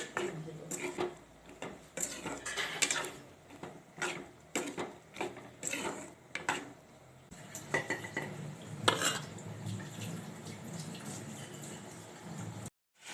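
Urohi seeds being stirred into a pot of curry, a spoon clattering and scraping against the pot in repeated irregular strokes, fairly close, with a softer steady scraping later.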